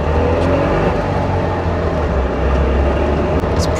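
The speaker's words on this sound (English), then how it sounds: "It's pretty smooth, that 2-stroke." A Trabant's two-stroke car engine runs steadily, heard from inside the car as a constant low drone with a smooth, even rumble and no sharp exhaust bursts.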